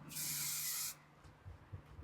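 A spray can hisses in one steady burst of just under a second while painting a model robot in a living room. The burst is close and clear, followed by quiet room tone and faint handling sounds.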